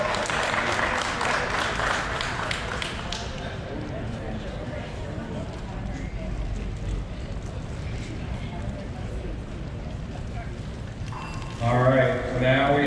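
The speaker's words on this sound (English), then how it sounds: "Come on, give him a round of applause." A car show crowd in Charlotte, NC applauds a category winner with a dense wash of clapping that is loudest at first and thins out. Voices and chatter run beneath it, and a voice cuts in near the end.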